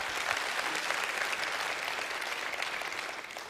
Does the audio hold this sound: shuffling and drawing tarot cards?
no